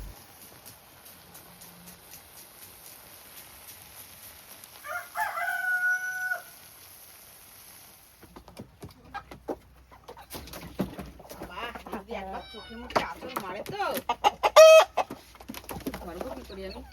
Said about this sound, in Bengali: এটা হচ্ছে দেশি মুরগ আর এই পাশে একটা আছে বড় সাইজের ক্রয়লার